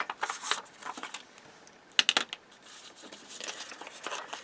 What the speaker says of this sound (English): I can go ahead and cut this out of my fabric